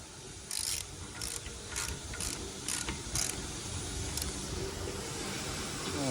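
Ratcheting clicks in short bursts from a 36 mm socket torque wrench tightening the front passenger-side CV axle nut to 229 foot-pounds on a Fiat 500 2.4 Turbo, close and moderately loud over steady background hiss.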